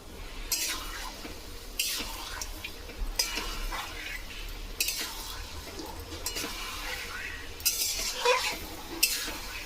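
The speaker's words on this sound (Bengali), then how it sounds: "এবারে মাংসটাকে ভালো করে নেড়ে নিতে হবে গ্যাসের ফ্লেমটা একটু হাই করে দিলাম" Chicken being stirred as it fries in a pan over a high gas flame, with repeated scraping and clattering strokes at an uneven pace over a steady low sizzle, close and fairly loud, no talking.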